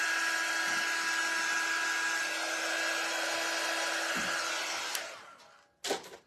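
A hair dryer drying craft materials gives off a steady, close, high-pitched whirring drone. It stops abruptly near the end, with a brief click or knock after it.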